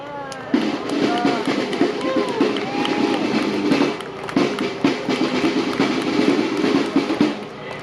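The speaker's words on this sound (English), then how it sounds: "Clap it up for Miss Hatal again from Chicago's Indian community" A crowd at a Chicago gathering of Trump supporters claps and cheers for a woman from the city's Indian community, with whoops and shouts over busy, uneven applause and some voices mixed in.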